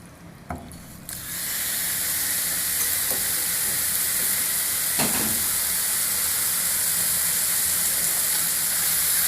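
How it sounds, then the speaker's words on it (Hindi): Marinated chicken for shawarma sizzles loudly and steadily on a hot plate, a constant frying hiss that starts after a couple of soft knocks and continues alone with a few faint clatters. "जी फ्रेंड, मैं अब चिकन को हॉट प्लेट पे पकाऊँगा।"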